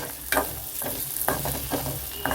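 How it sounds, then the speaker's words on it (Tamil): Dried vaalai fish fry with garlic in a pan, giving a steady soft sizzle broken by several sharp scraping stirs of a spatula, close and fairly quiet, with no voices. "இந்த பூண்டு சேர்த்து இது கூட வறுத்துடுங்க"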